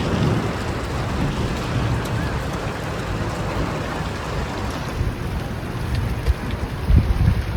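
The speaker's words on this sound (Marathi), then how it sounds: "पाऊस आलाय" Steady heavy unseasonal rain pours down in a dense, continuous hiss, with a few louder splashes and rumbles near the end; no voices.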